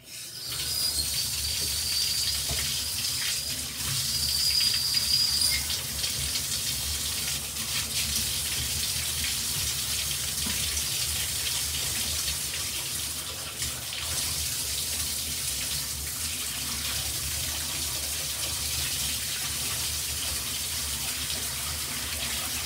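Water runs from a tap to soak a brush, a steady hissing stream that keeps going for the whole stretch with slight variation and no talking.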